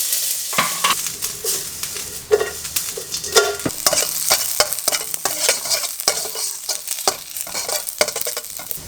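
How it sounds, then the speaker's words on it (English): Shallots sizzle in very hot extra virgin olive oil in a Thai wok, a constant crackling fry broken by frequent scraping stirs of a utensil against the metal, close and lively with no talk. "The shallot is sauteed already"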